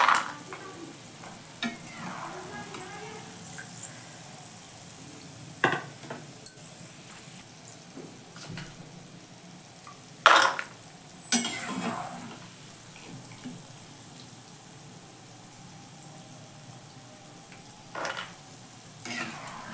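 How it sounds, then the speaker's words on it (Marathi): Peanuts frying in oil, stirred and lifted out with a utensil: a soft, continuous bubbling sizzle sits under scattered scraping and knocking strokes against the pan, some louder than others. "सर्व शेंगदाणे आता मी तेलातून काढून घेत आहे।"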